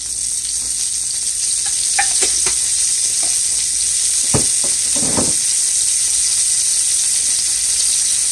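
A tablespoon of extra virgin coconut oil sizzles steadily in a frying pan, a constant hiss with a few scattered clicks and scrapes, close and alone.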